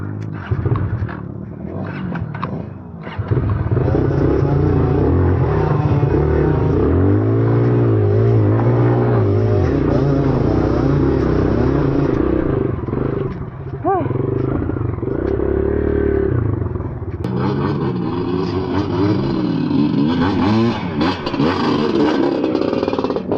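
A trail motorcycle engine roars up close on a rainy Sunday trail ride, revving and surging as the clutch and throttle are worked, pitch rising and falling continuously and loudly, briefly easing before a sharp burst of renewed revving.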